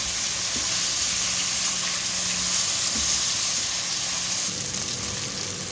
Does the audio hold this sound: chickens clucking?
no